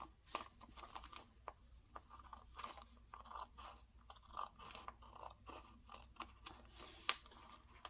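Scissors cut through a plastic page protector, close and quiet, with a run of crisp snipping crunches and crinkles coming in irregular bursts and one sharper snip near the end.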